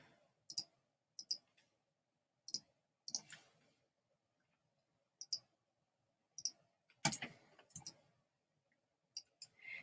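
Computer mouse clicks while working in Vectary 3D modeling software, sharp close double clicks in irregular bursts separated by silence, with no talk.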